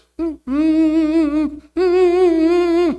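A human voice imitates a bowed Western violin with two long sustained, slightly wavering notes. There is a brief pause between the notes, and the sound is close and clear, with no instrument actually playing.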